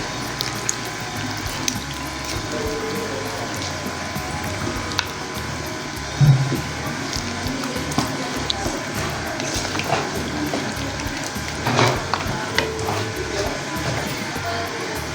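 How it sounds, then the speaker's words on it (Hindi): A spoon is stirred continuously through beef karahi with yogurt in a pan, giving a close, steady run of scraping, rattling clicks with a few louder knocks. "اور چمچہ ہم نے اس میں چلاتے رہنا ہے، چمچہ روکنا نہیں ہے۔"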